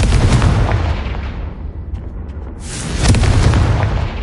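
A Confringo spell explosion in Hogwarts Legacy sounds as loud, booming blasts with rumbling bursts. A quieter gap separates the first blast from the second, and no voice is heard.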